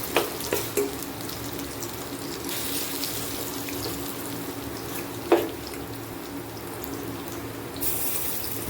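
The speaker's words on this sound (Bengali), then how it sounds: "এবার এক চামচ করে দিয়ে দেবো, বড়াগুলো ভালো করে ভেজে নেবো।" Chana dal fritters frying in hot oil, a continuous close bubbling hiss that holds steady throughout, with an occasional spoon tap against the pan.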